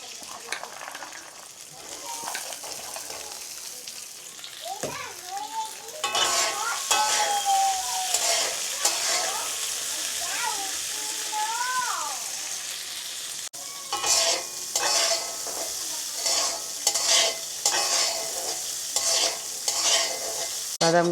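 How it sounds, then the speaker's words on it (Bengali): Nuts fry in hot oil in a kadai wok while a samosa filling is being prepared. A continuous bubbling sizzle runs throughout, with stirring scrapes and clinks, and a faint voice is heard in the background for a time. "আমি এখন বাদামগুলো ভেজে নেব।"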